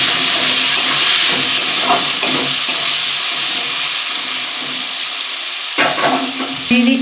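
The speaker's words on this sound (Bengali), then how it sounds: "আর একটু হলুদ দিয়ে উচ্ছেটা আমি ভেজে নেব।" Bitter gourd with turmeric fries in hot oil with a loud, continuous sizzle close by. Scraping stir sounds break in near the end.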